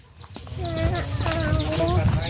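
Chickens clucking close by in a rural Thai yard, a quick series of short rising clucks over low background rumble.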